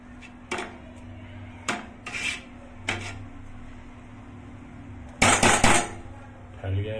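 A metal spoon scrapes and taps against a pot while cooked rice for biryani is spread out over a gas flame, giving several sharp clinks and a longer rasping scrape near the end, close and clear.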